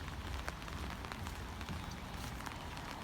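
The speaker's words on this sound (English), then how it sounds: "still raining." Steady rain pattering on a hard surface at a railway station ramp, a dense continuous hiss with scattered louder drops, close by and without voices.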